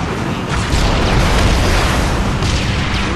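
A rocket launcher explodes in the video game Halo Reach, a loud, dense blast of rumbling, crackling noise that fills about three seconds without letting up.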